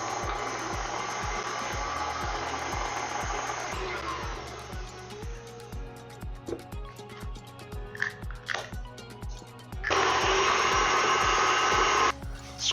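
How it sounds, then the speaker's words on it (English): An electric hand mixer beats eggs into chocolate chip banana bread batter in a bowl, a loud steady whir that drops to quieter clinks and scraping midway, then revs up strongly again near the end. "Next, we're going to add 2 eggs, 1 at a time, beat well after each egg."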